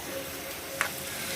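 Prawns frying in a pan for a prawn egg curry give a steady, close sizzle throughout, with one brief louder crackle partway through; no one speaks.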